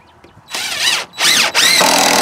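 A power drill drives screws into a heavy-duty wooden gate, in three loud whining bursts that rise and fall in pitch as the motor loads up, close and with no talking.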